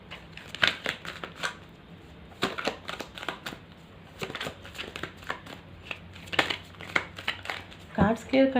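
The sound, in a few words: tarot cards being shuffled and cleared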